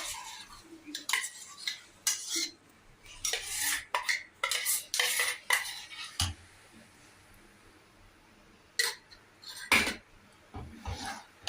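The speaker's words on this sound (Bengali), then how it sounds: "ভালোভাবে এটা মিক্সড করে নিই।" Palm pulp being stirred into payesh in a pot on a low gas flame: close, irregular bursts of a spoon scraping and clinking against the metal pot, with quiet pauses between strokes.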